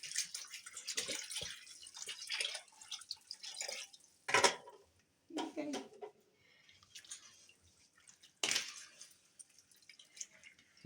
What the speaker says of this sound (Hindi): इसके अंदर मैं पानी ऐड कर रही हूँ।